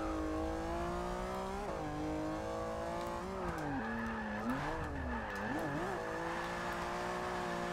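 A Ferrari drift car in a racing game holds a high, wavering engine whine that bends up and down with throttle through slides, with tire squeal mixed in, loud and close throughout.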